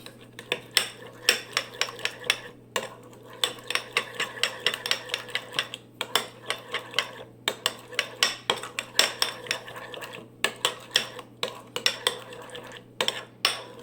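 A spoon scrapes and clinks steadily against a bowl while mixing spicy mayo for sushi, a rapid rhythmic tapping that runs nonstop close up over a low steady hum.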